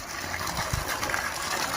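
Water gushes from a borewell pump at a farm in Karanji, Washim district, a steady splashing rush with a few low thumps, close and moderately loud, with no voices.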